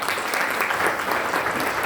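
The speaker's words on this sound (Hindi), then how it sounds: "एक बार जोरदार तालियां होंगी" An audience claps loudly and continuously, a dense wash of many hands applauding together at a company event, steady throughout.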